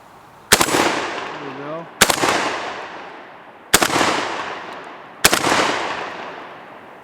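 A JTS12AK 12-gauge AK-pattern shotgun fires four loud, sharp blasts at targets, spaced about one to one and a half seconds apart, each leaving a long echoing tail, with someone speaking briefly between the first two shots.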